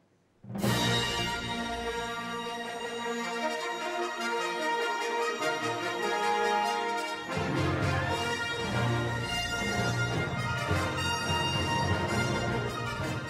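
A full orchestra swells in and plays a bold, loud film theme, brass and strings sustaining a continuous, sweeping melody throughout.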